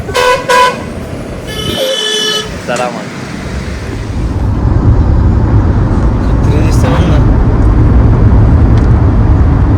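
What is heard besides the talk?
road traffic with car horns at toll plaza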